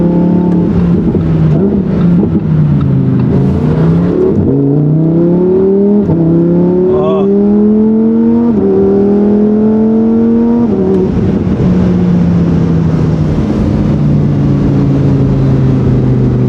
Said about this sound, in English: Oh, that V10 sound.